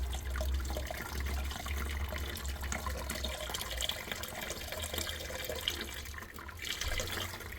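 Water pouring steadily into a home-brewing vessel while sparging grain for a plum porter, a continuous close splashing flow without pauses.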